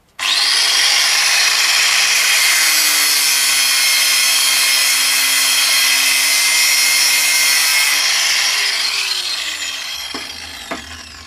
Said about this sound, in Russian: маленькой болгаркой можно работать и одной рукой